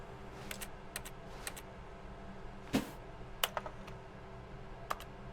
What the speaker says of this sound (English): you press E, it does a keyboard sound.